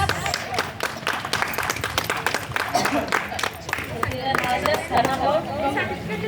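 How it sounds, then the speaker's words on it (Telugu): A group of people claps together on cue at a karate belt ceremony, a burst of sharp rapid hand claps with chatter and voices mixed in. "క్లాప్."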